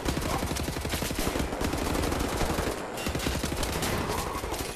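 Sustained rapid assault rifle fire in Wolfenstein: The New Order, loud and dense, continuous automatic bursts with a brief gap near the end.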